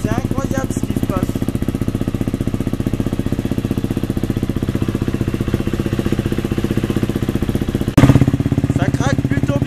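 A KTM motorcycle engine idles loud and close with a steady, rapid exhaust pulse, blipping sharply near the end; a voice speaks briefly over it at the start.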